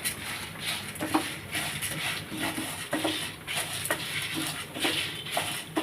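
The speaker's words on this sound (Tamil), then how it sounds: "மீடியமாக அழகாக நிதானமாக சிம்மில் வச்சு பொறுமையாக இந்த மாதிரி வறுத்துக்கோங்க" Lentils dry-roasting in a pan over a low flame for a dal thogayal, giving a steady soft rustle with light scraping stirs recurring throughout, close and moderately quiet, with no talk.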